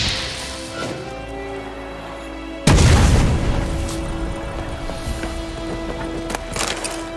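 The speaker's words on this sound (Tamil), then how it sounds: "ஓகே, இந்த பேரில் வந்து வெடிக்கும்." A barrel exploding in The Witcher 3 video game: one sudden, heavy boom that breaks through quiet game ambience, then a rumbling decay with scattered clatter.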